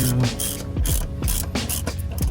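Ratchet clicking close up while bolting a roll cage into an Alfa Romeo Giulia 2.0, several quick bursts of sharp pawl clicks in an uneven rhythm, with no talking.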